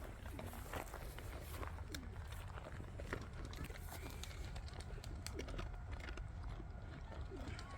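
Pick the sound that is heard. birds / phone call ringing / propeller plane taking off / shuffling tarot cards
birds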